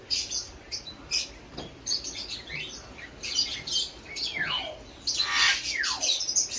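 Parrot squawking and chirping inside an Egyptian pet shop, a run of loud, close, repeated harsh calls and whistles with other birds chattering behind it.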